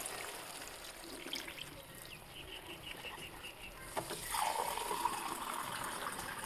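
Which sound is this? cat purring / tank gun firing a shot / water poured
water poured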